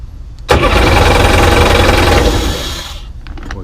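A 1998 Sea-Doo GS personal watercraft engine cranks and catches, then runs at a loud rough rev for about two seconds before dropping back and cutting out.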